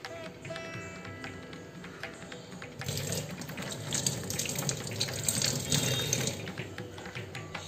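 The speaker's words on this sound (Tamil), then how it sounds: "நான் கழுவிட்டு வந்துடுறேன். இஞ்சி கழுவிடலாம்." A kitchen tap runs while ginger is washed under it, a close, steady splashing stream that grows fuller and louder partway through, with small clatters as the ginger is handled.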